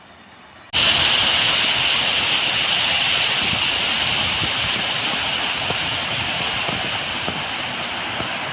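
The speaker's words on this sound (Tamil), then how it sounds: "இதுதான் வீராண ஏரிக்கு தண்ணி வர இடம்." At the sluice feeding Veeranam Lake near Kattumannarkoil, water rushes in a loud, continuous broadband roar that starts abruptly after a brief quieter moment and holds steady throughout.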